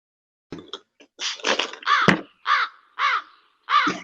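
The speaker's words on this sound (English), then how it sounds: "Someone get that fucking bird." A crow caws repeatedly and loudly close by, a series of about six harsh calls in an uneven rhythm, with a few sharp knocks at the start and no talking.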